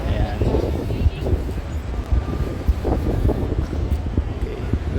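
Steady blustery cold wind in Valencia, Spain rumbles across the microphone, broad and low, with faint talk underneath and occasional gusty bumps.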